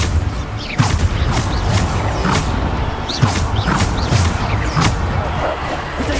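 Repeated Bombarda blasting spells cast in Hogwarts Legacy, a series of sharp impact bursts with whooshing tails landing roughly every second over dense, busy game noise, with no speech.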